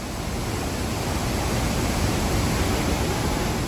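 Iguazu Falls roars as a dense, unbroken wash of falling water, close and loud, steady throughout with no voices.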